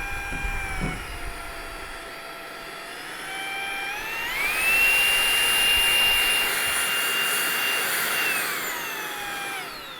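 A Tineco Pure One S12 Pro EX cordless vacuum running at max power, a loud, close whine that climbs in pitch, holds steady at a high, roaring level, then begins to fall away.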